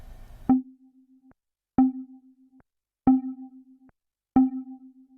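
A synthesizer lead patch with filter envelope attack, its cutoff sliding down, sounds four identical notes at even intervals, each with a sharp onset settling into a steady tone before cutting off, with no voices.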